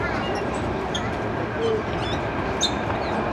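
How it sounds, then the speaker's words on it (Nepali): A Tung Chung line metro train in Hong Kong rolls along with a steady, close rumble and hum, with faint voices and brief squeaks over the running noise. "हामी चाहिँ टुनचुङ लाइनको ट्रेन पक्रियो है साथीहरू"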